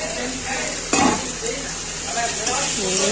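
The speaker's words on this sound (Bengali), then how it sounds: "এরপরে পটল ভাজা, আলু ভাজা এবং পনির সব দিয়ে দিলাম একসাথে।" Fried pointed gourd, fried potato and paneer frying and being stirred together in a pan of spices, a steady sizzle with a sharp metal scrape and clink as the spoon moves, heard close.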